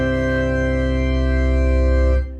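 Pipe organ stops sounding together with the mixture, a loud sustained full chord held for about two seconds before cutting off abruptly.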